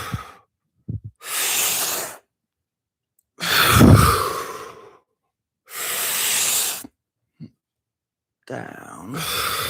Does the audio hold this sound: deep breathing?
yes